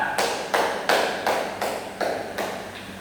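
A classroom audience claps for a student in about seven evenly spaced, sharp bursts, close and clear with no talk over them.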